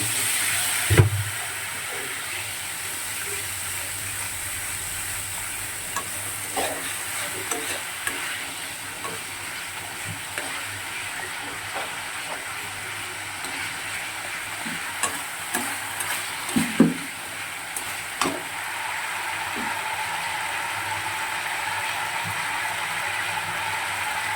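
Pabda fish frying with black cumin, green chilli and turmeric sizzles steadily after a splash of water is added, with a bright hiss and occasional stirring clinks and scrapes throughout.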